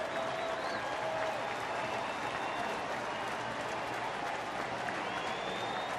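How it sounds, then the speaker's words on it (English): A baseball stadium crowd gives an ovation for pitcher Tommy Milone at a night game, steady distant applause and cheering spread across a large crowd, unbroken for several seconds. "He'll get a nice ovation for the crowd tonight."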